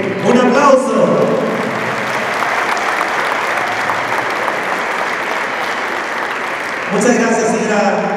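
Sustained applause from guests at a neighbourhood leaders' dinner, a dense wash of clapping lasting several seconds, with voices talking over it at the start and again near the end.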